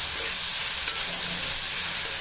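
Small pieces of salted meat sizzle while being stir-fried in a pan, a loud continuous crackling hiss that stays level from start to finish.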